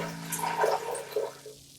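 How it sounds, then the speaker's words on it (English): Water poured into an Italian moka pot coffee maker, a short gurgling splash of liquid up close that tapers off after under two seconds, no voices. "add the water."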